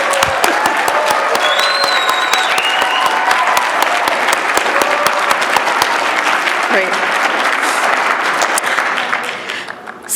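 An audience at a graduate exhibition and experience design thesis reception applauds steadily, a dense, close wash of clapping that holds for about ten seconds before tapering off, with a voice speaking briefly over it.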